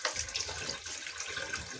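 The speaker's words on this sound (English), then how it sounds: "Give it a nice wash. Get all the blood out as much as you can." Tap water runs over a gutted roaster chicken in a sink, a steady close splashing stream with shifting gurgles as the bird is rinsed, and nobody speaks.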